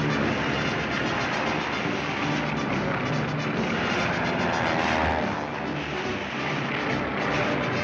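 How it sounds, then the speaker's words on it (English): Pursuit planes fly aerial maneuvers in a 1941 Looney Tunes cartoon, their engines a loud, continuous roaring drone that holds steady for about eight seconds with no speech. "During maneuvers, pursuit planes engage each other in aerial games."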